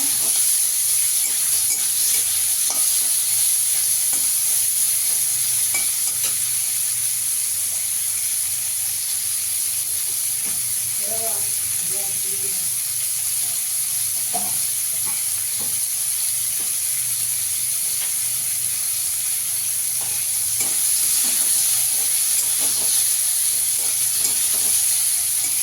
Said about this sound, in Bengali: হালকা করে একটু চিংড়ি মাছটা ভেজে নেব